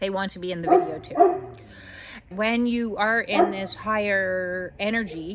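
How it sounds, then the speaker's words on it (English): Indoor dogs barking and whining in short bursts, with a person speaking steadily over them at close range. "Sorry about the dogs. They want to be in the video too."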